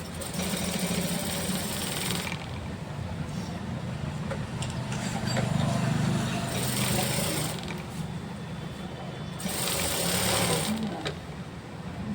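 A sewing machine runs steadily while stitching a seam on a farshi salwar. The close, whirring motor hum holds through several long runs with brief pauses and rising speed changes, and no talk is heard.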